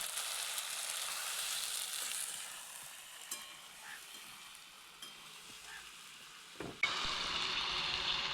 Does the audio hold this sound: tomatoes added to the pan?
yes